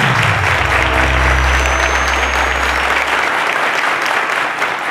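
Steady, loud audience applause fills the studio of a TV quiz show, continuous and dense for the whole stretch, with a low hum beneath and no voices rising above it.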